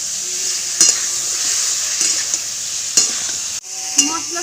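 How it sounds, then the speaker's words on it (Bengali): Ground spice paste frying with potato and eggplant in a pan, a steady close sizzle punctuated by a few sharp stirring scrapes and knocks of a utensil. "মশলাটা দিয়ে আমি 1 থেকে 2 মিনিট মতন কষিয়ে নেব আলু বেগুনের সাথে।"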